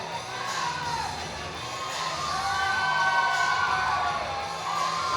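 Spectators at an MMA fight cheering and shouting, a sustained roar of voices with whoops that swells slightly in the middle and stays loud throughout.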